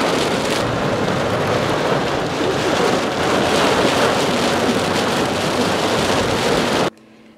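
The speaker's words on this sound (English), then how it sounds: "And it's like pouring down rain." Heavy rain pours down steadily beside a flooded roadside, a loud dense roar that holds for about seven seconds and then cuts off abruptly.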